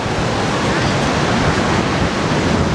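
Waves and churning water thrashed by extreme winds in Benidorm, a loud, dense, unbroken roar of surf and gusting air close to the microphone.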